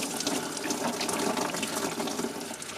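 Coolant drains from a 2008 Holden Rodeo Isuzu 3L diesel and splashes onto the ground in a steady, continuous gushing pour, close by and with no talking.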